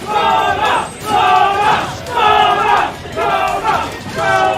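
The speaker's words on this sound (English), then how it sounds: "the crowd is behind Soba right now" A tournament crowd at a Super Smash Bros. event chants rhythmically for a player, loud voiced pulses repeating about once a second in unison, close and energetic.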